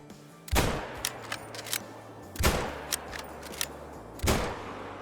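Three sharp reports ring out from a .338 Magnum rifle in the Call of the Wild hunting game, spaced a couple of seconds apart, each followed by a rolling echo and fainter cracks between.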